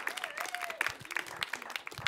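Brief, fairly faint applause from an audience at a music pitch event at Les Arcs, scattered claps with a voice or two heard in the room.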